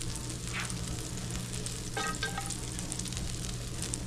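Garlic frying in butter in a pan for chicken francese, a dense close sizzle with a few brief stirring scrapes over a low steady hum, no speech.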